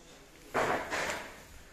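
A kitchen drawer in a newly fitted showroom kitchen slides open and shut in two quick, close wooden-running strokes, moderately loud against a quiet room with no talk.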